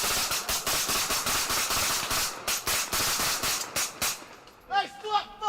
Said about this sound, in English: stop fucking shooting up here!